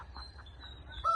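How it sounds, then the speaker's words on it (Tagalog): Free-ranging chickens on a rural province farm give a few soft clucks in a short burst, fairly near, with outdoor ambience and a brief higher call at the end. "Marinig mo lang yung tunog ng manok."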